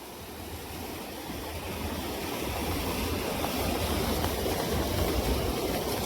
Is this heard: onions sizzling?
no